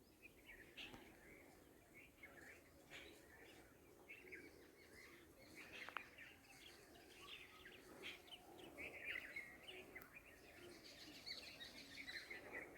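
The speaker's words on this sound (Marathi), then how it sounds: "आपण माझ्या मागे पाल पक्ष्यांचा किलबिलाट पूर्ण ऐकू येतोय." Birds chirp and call in repeated bursts around a rural agricultural plot in Konkan, with faint insect buzzing beneath and no voice.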